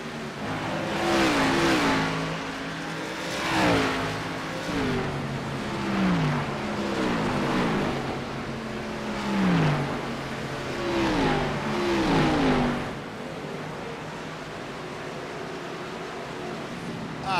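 Xfinity Series stock cars in a racing video game set at Richmond roar steadily, with repeated rising and falling engine sweeps as they lap and shift, loud and continuous throughout.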